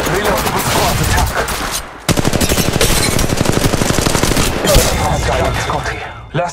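Loud, rapid automatic gunfire in the battle-royale shooter Apex Legends Mobile: a dense burst, a brief pause, then a long, fast, steady stream of close shots that tapers off near the end.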